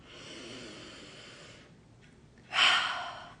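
A slow, deep inhale drawn through the nose for over a second and a half, soft and close, then a short pause and a louder, breathy rush of air near the end; no talk over it.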